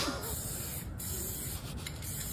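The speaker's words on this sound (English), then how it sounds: "This is allegedly Travis Scott painting over John McEnroe's Hall of Fame plaque with spray paint" An aerosol spray can hisses paint onto a Hall of Fame plaque, a close, steady rushing spray with brief breaks between bursts, no talking.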